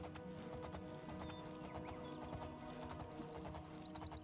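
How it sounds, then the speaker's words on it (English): Steady clip-clop of a horse galloping in the video game Oblivion, a continuous rhythmic hoofbeat with a brief whinny, over a dense game soundtrack and no talk. "Good thing old Shadowmere here is the fastest horse in the land"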